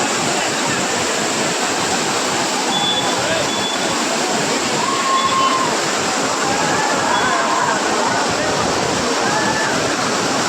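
A monsoon waterfall at Malshej Ghat roars in a dense continuous rush, loud and close, with faint crowd sounds and thin whistle-like tones riding over the steady wash.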